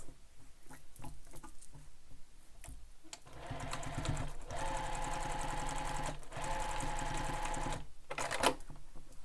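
A sewing machine stitches backpack pockets in quick start-stop bursts at first, then runs in a long steady whir with a brief pause, close and fairly loud, with no talking.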